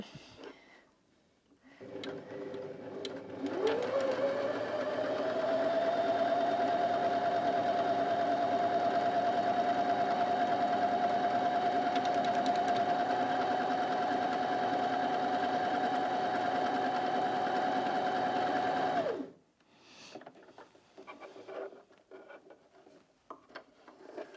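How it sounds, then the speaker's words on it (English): A Janome Sewist 725s sewing machine sews a dense buttonhole on cotton fabric. A steady motor whine and rapid needle chatter start after a couple of seconds of quiet, run evenly for about fifteen seconds, then stop, leaving faint handling noises. "So you just go back to reset and then back on buttonhole, and it will do the same formation of sewing it."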